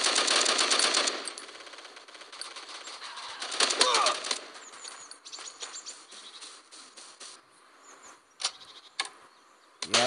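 Rapid automatic gunfire from a weapon in the mobile shooter Bullet Force rattles in dense bursts, loudest at the start, followed by scattered single shots and short volleys with game effects in between.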